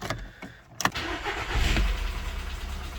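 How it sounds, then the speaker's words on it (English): A VW Golf 5 car engine cranks and starts, with brief starter clicks followed by a rising engine rumble that settles into a steady idle, recorded close by with no talking. "So the car starts"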